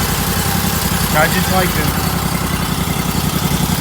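A small pressure washer engine on a trailer idles steadily with a low, continuous rumble while a person talks briefly over it, on a cold, rainy morning.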